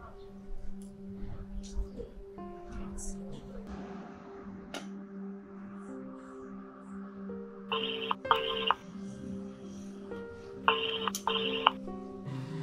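A phone rings in two short bursts of electronic ringtone, fairly loud over background music, after a quiet stretch with a voice in the room.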